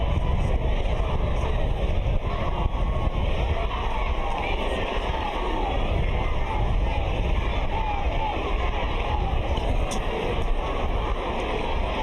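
Home fans cheer at an Italy versus Ireland under-20 rugby match, a broad, sustained crowd roar filling the stadium with steady noise throughout, while a commentator talks over it.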